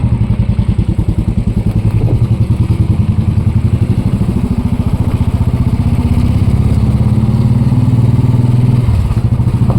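A Royal Enfield Bullet motorcycle thumps along steadily as it is ridden, its loud, close single-cylinder engine pulsing in a rapid even beat with no break for the whole stretch.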